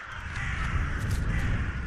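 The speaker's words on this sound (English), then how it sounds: "I hear crows coming from my right-hand side" Crows caw repeatedly over a low, steady ambient rumble in the video game The Last Door, their harsh calls sounding somewhat distant.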